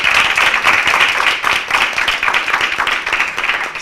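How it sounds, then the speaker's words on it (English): Audience applause for Teresa at a school board workshop meeting, a steady patter of hand claps filling the room for about four seconds without a break. "Can we give Teresa another round of applause?"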